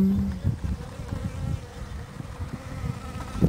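A big bee buzzes around cactus flowers, its low droning hum rising and falling as it moves close to the microphone, with a few louder passes and no speech.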